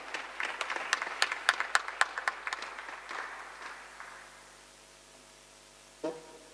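A church congregation claps together during a French-language service, a burst of sharp, fairly close applause that thins out and fades over a few seconds, with a single faint knock near the end.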